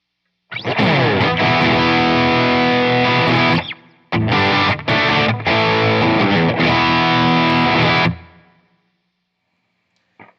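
Loud distorted electric guitar chords through a Friedman tube amp ring out for several seconds, break briefly, then resume with a few chopped hits before fading, with a spring-reverb tail.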